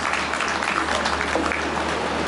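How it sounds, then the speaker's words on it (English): An audience at an investment summit plenary session applauds steadily, a dense wash of clapping at moderate level lasting the whole stretch, over a low hum. "Please, another round of applause for Professor Bat Nnaji."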